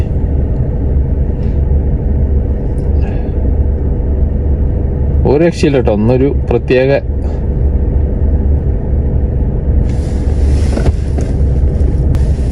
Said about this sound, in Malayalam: ഇത് മൊത്തം ഈ ഗുഡ്സ് ട്രെയിനാണ്